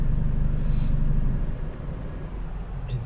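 Jeep Compass Limited 2.0 with a stainless steel exhaust and diffuser idles with a deep, steady low rumble, loud and close, with no voices.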